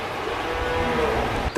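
A red pure Gir bull gives a low, drawn-out moo lasting over a second, fairly loud and steady, ending in a short rough burst.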